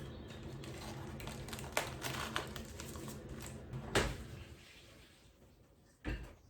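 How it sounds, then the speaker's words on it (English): Tape pulled and pressed around a plant pot onto cardboard for packing, giving scattered close crinkles, soft rips and a few sharp snaps, with no talking. "I'm literally just taping the pot to the cardboard"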